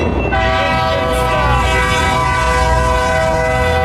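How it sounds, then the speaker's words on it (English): A freight train approaches with its horn blaring continuously, a loud sustained multi-tone blast over rumbling rail noise and clatter. "Hey, here comes the train."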